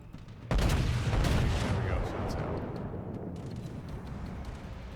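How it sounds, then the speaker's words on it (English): Kongou battleship main guns firing in World of Warships, a sudden loud booming salvo followed by a long rumbling decay. "I'm gonna shoot 2 shots at him and 2 shots at the Zuho."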